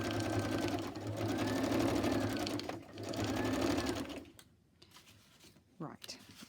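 Sewing machine stitching around a fabric scrap embellishment, a steady close mechanical whirr running in bursts for about four seconds, pausing briefly, then stopping before faint handling noises and a short sound at the end.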